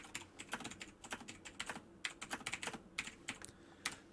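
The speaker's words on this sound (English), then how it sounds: "we're going to start off by just typing a very short sentence" A computer keyboard is typed on at a steady, quick pace, with light, close keystrokes clicking in uneven bursts and brief pauses between words, quiet and free of talk.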